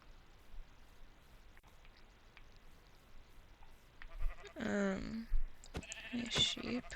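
Sheep bleating in Minecraft, a couple of short nasal bleats close by near the end after a quiet stretch.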